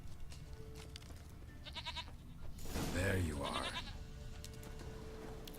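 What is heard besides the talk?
goat bleating in the video game The Witcher 3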